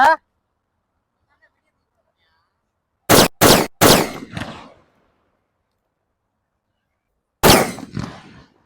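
Leftover homemade paper firecrackers burst in a fire of burning rubbish during Diwali. There is one sharp bang at the start, then a tight cluster of three loud cracks with short decaying tails, and a final bang after several seconds of near silence.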